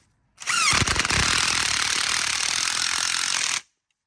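A pneumatic impact wrench rattles in one loud, continuous burst of about three seconds while tightening a nut on a clutch pulley bolt during a Toyota Yaris clutch replacement, starting abruptly and stopping cleanly.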